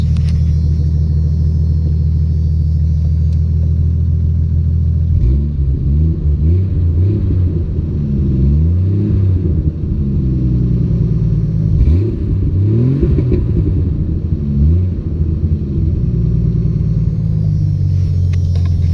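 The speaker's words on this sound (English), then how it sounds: "I'll rev it up a little bit" A 1993 Jeep Cherokee XJ with the 4.0 engine and five-speed manual, running slightly rich, idles steadily and then revs up in several loud, close blips that rise and fall before settling back to a deep idle.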